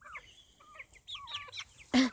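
Several young chickens in a small flock cluck and make soft warbling chirps close by, with a sharper louder squawk near the end.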